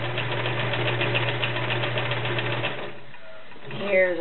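A vintage 1947 Kenmore convertible sewing machine runs a stretch zigzag stitch with a steady close mechanical whir and rapid needle clatter, then stops near the end, leaving a brief quiet handling noise.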